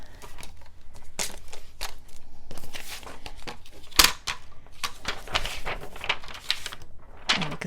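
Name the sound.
cutting sparkly snowflake vellum paper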